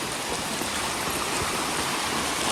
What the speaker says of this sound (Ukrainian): з таким прекрасним видом на манюпусінький водоспадик, але такий він якийсь ніжний, витончений